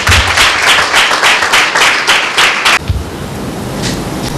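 Loud clapping from a church meeting congregation, dense and sustained for almost three seconds, then cutting off abruptly and leaving a quieter, diffuse room hiss.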